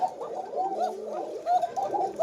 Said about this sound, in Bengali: ডাক শুনলেই বোঝা যায় কবুতর কেমন হবে